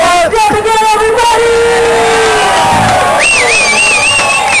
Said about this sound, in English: Let's get a nice round of applause.